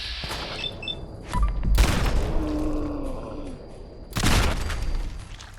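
Heavy .50 caliber gunfire in Fallout 4's Far Harbor, with loud booming shots around the middle and again near the end over a steady game ambience.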